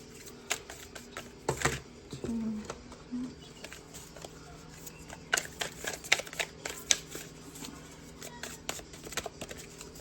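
Rapid papery riffles and clattering flicks of cards being shuffled, in a couple of bursts, close up and fairly quiet.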